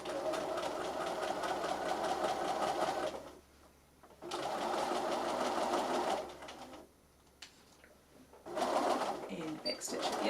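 A home sewing machine runs in bursts as it stitches plush bunny fabric, with a steady mechanical whir in three runs separated by brief quiet pauses for a back stitch.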